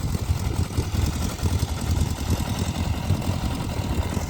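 A customized 2000 Yamaha Fazer FZS600 motorcycle engine runs at a steady idle, a loud, close, even low throb with a fast pulsing beat and no voices.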